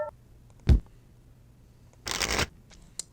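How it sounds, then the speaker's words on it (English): A deck of trading cards is shuffled at a table during card game play: a short riffle, then a longer louder riffle burst and a final quick snap, close and clear with no talking. "throw everything back, shuffle deck, draw 3"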